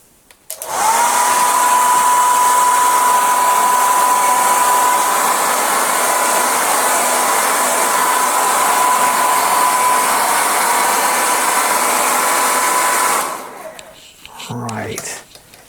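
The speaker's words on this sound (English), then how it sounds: "I'm going to get my hairdryer" A hairdryer blows a steady, loud whoosh across a watercolour painting for about twelve seconds, then cuts off abruptly, followed by brief handling noises.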